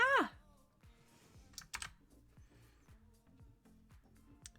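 Fingers tapping at a computer keyboard, a sparse run of light clicks and taps scattered over several seconds, preceded by a brief exclamation and soft voice sounds.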